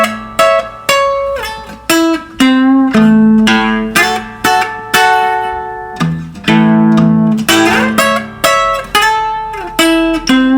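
Acoustic guitar plays two bars of a Delta blues song, a steady run of plucked notes and bass strums in a clear rhythmic pattern, loud and close with no talking.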